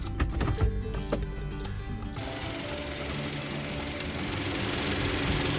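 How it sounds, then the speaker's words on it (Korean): Rattling, knocking engine noise from a faulty alternator one-way pulley that shifts after a couple of seconds into a steadier mechanical clatter, close up with no talking. "악셀레터를 밟게 되면은 앞쪽에서 드르륵 드르륵 소리가 난다고 입고 하셨어요"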